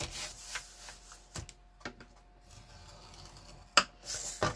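A scoring tool drawn along paper while making a small gift bag, quiet close scratchy rubbing strokes with a few sharper taps and clicks in between.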